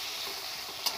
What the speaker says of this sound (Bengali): ওই তেলেতেই আমি দিয়ে দেবো পেঁয়াজগুলো ভালো করে আমি তেলে নেড়ে চেড়ে নেব